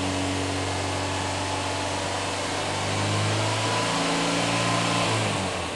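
A car engine fitted with a prototype HHO generator revs up under throttle, a loud steady drone that climbs in pitch around midway and holds there, heard close with no talking.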